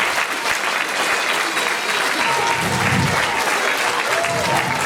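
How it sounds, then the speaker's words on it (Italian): An audience applauding in a hall to welcome the parish priest at a children's festival, dense steady clapping from many hands lasting the whole stretch, with faint voices mixed in. "Accogliamolo con un applauso."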